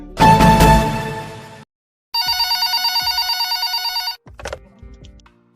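A telephone rings for an incoming caller on a radio show: a loud, bright burst of ringing, a pause, then a long steadily pulsing electronic ring, followed by a short clatter as the line is picked up.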